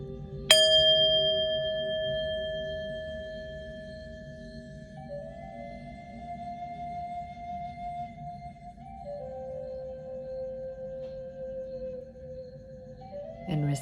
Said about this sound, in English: I'm going to ring the bell, clear your energy